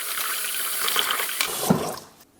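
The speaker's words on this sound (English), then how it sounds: "Let's give it a good rinse down with our hot water." Hot tap water rinsing a Bosch, Neff or Siemens dishwasher filter, a steady close gushing splash with shifting tone as the stream hits the part, tapering off at the end.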